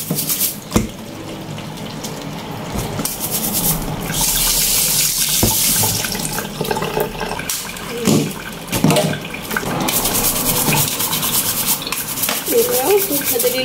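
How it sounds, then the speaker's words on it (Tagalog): A small crab is scrubbed with a cleaning brush under a running faucet, a continuous gush of tap water over a sink with rough, rhythmic bristle rubbing and occasional knocks, close and loud. "malinis na brush dito na panglinis lang talaga sa ating alimango"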